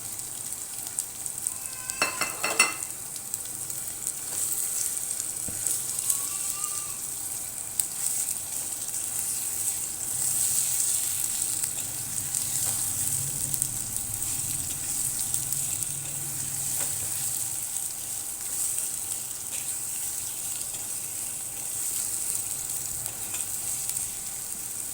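Chopped tomatoes fry with garlic in a pan for a bell pepper and minced meat dish, giving a continuous, even sizzle. A few light clinks of stirring come near the start.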